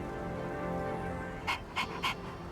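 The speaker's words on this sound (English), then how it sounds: "Yay, I can pet the dog." Koromaru the dog pants in the video game Persona 3 Reload, three quick breathy pants near the end over steady game music.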